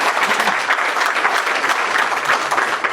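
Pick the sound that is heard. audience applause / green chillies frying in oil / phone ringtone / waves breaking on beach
audience applause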